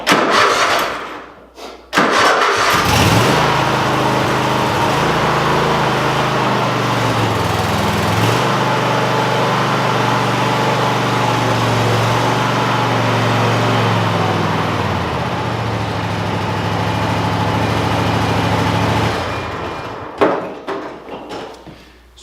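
A Cub Cadet I1046 riding lawn mower's engine cranks briefly, catches and settles into a loud steady idle with slight throttle shifts, then shuts down near the end with a few clunks.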